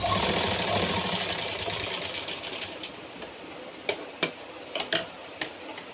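A sewing machine stitches a blouse with a steady whirring hum at first, then eases into quieter, sparse ticks and clicks near the end.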